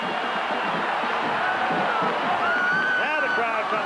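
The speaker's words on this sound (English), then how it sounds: "Now the crowd comes out." A large stadium crowd roars and cheers continuously at a 1983 college football game, North Carolina at Maryland, as fans rush the field, with whoops and shouts rising over a dense wall of noise and an announcer talking over it.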